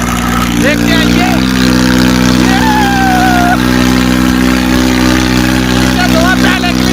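Farm tractors strain in a tractor tug-of-war contest, a steady loud engine drone with harmonic rumble throughout, while people shout and talk over it.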